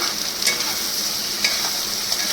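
Onion and tomato sizzle in a hot pan for egg bhujia, with a continuous loud frying hiss and a few distinct scrapes of a spoon stirring through the mixture.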